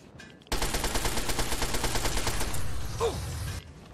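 Sustained rapid gunfire from Fallout 3 starts suddenly and loudly, a dense automatic stream lasting about three seconds, with a short sharp shift near the end before it cuts off into quiet.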